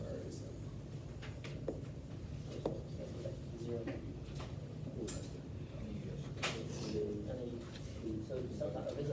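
Pen drawing a graph of an exponential function on paper, faint scratchy strokes and occasional taps heard under steady, continuous speech from a nearby voice.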